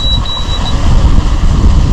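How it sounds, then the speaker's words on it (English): A thin, high electronic beep from a boat's autopilot alarm sounds a few times early on, with short gaps between tones, over steady low wind and engine rumble at sea. "Autopilot's letting us know that it's spotted them."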